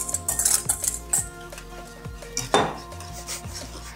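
Milk heats in a pot while a utensil stirs it quickly, giving a run of close metallic clinks and scrapes against the pot in uneven bursts, with one sharper clatter midway.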